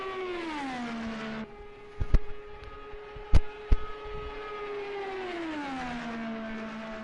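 Race car engine on a warm-up lap in an Indy 500 racing video game, a steady high whine that drops, holds, then climbs again, broken by a few sharp clicks and thumps.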